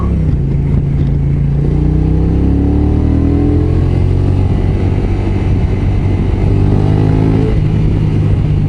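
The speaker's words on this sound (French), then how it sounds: "Attends, je vais me remettre en Sport 3. Je vais accélérer un bon coup." A Honda NT 1100 DCT motorcycle accelerates hard in Sport 3 mode, its engine note climbing steadily through rising revs, loud and close throughout with constant road and wind roar, no talk.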